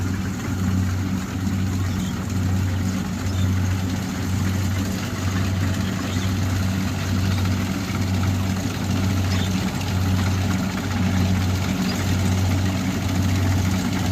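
A Kubota King Pro tractor engine runs steadily in a muddy field, a loud, continuous low idle-like drone with a pulsing throb and no pauses, alone without talk.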